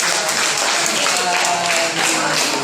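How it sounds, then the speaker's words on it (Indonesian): A classroom of students applauds, a dense, steady burst of clapping filling the short stretch, with voices mixed in. "Aduh, tepuk tangan."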